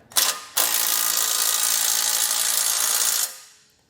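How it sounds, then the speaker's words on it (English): A power tool drives a 19mm socket to tighten a bolt on a 2021 Jeep Wrangler base plate installation, giving a brief burst and then a loud, close, steady whirring run of about three seconds that stops abruptly. "But we'll tighten this bolt down using a 19mm."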